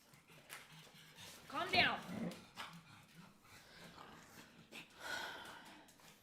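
Dogs coming indoors, muddy and dirty, with a burst of whimpering and yipping near the middle of the clip, heard among household noises and a person's voice.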